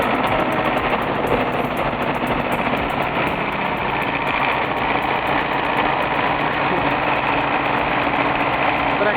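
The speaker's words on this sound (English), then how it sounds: "Вот этот дрифт на тракторе." A tractor engine running hard while the tractor drifts on snow gives a continuous, loud, steady mechanical roar with a buzzing vibration and no pauses, and nobody speaks over it.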